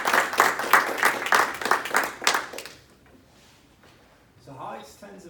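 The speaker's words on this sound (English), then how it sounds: "Let's give it a round of applause." An audience claps after a talk on building and backtesting a sentiment trading strategy, a steady burst of applause for about two and a half seconds that fades out, followed by a faint murmur in the room.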